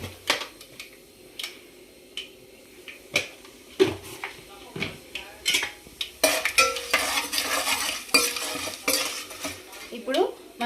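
A spoon clatters and scrapes in a pan while tempering fries for homemade pudina rice, with sharp metallic knocks, a rising sizzle partway through and someone speaking over the cooking.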